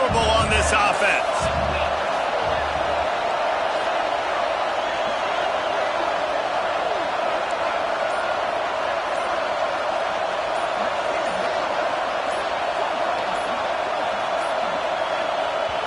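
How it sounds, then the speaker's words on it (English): A stadium crowd at an American football game roars on fourth down, a loud, steady, unbroken wall of noise that holds at full level for the whole stretch, with some brief thumps near the beginning. "this crowd is making it miserable on this offense"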